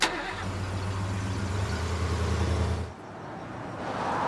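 A car engine runs steadily with a low, even hum that holds for about three seconds, then drops away as the vehicle slows, leaving quieter road ambience.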